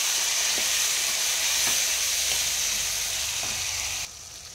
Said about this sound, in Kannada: ನೆಕ್ಸ್ಟು ಟೊಮೆಟೊ ಹಾಕ್ಕೊಂಡು ಸಾಫ್ಟ್ ಆಗೋವರೆಗೂ ಫ್ರೈ ಮಾಡ್ಕೊಬೇಕು.